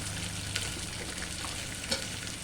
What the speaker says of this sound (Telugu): అన్నీ వేసి ఫ్రై చేసుకొని ఈ ఫ్రోజన్ బఠానీ వేసి బాగా ఫ్రై చేసుకోవాలి